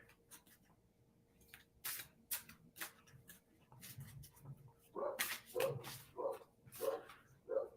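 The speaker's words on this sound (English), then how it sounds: "And now we have dogs." A dog barks in a steady run of five or six close, evenly spaced barks, with a few scattered softer clicks and thumps before it.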